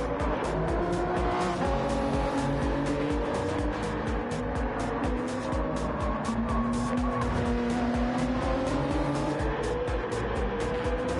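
Toyota Supra and Nissan race cars battling for the lead at Fuji in Gran Turismo 7, engines droning steadily with shifting pitch and tires squealing, a continuous loud racing roar with no talk.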